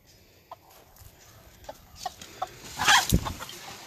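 A hen clucking at a house under construction, scattered single clucks early, then a louder cluster of agitated clucks and a sharp squawk near the end, close by with no talk.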